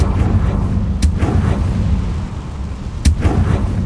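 A Confringo spell explosion in Hogwarts Legacy, heard as a deep rumbling boom with a couple of sharp cracking bursts over a dense low roar.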